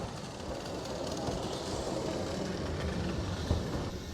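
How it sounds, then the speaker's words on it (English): A train in Kyoto rolling past, a continuous broad rumble of wheels and carriages at moderate distance, steady without voices. "Okay, very cool. It's a train."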